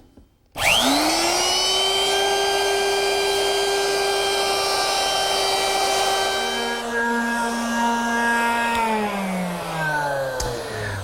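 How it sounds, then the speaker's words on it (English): A woodworking router with a quarter-inch radius bit eases the corners of a wooden tabletop, spinning up to a loud, steady high whine that holds for several seconds before dropping in pitch as it cuts and winds down. "to ease the corners of the tabletop, I'm using my 1/4 inch radius bit"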